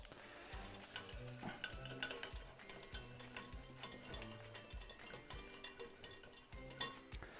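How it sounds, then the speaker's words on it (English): A spoon scrapes steadily around a pan while sauce is stirred to thicken it, with regular rhythmic strokes and soft metallic knocks repeating about once per second under light sizzling. "add a little bit at a time. Stir it in."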